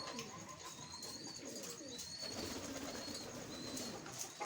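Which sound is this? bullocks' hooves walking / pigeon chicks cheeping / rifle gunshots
pigeon chicks cheeping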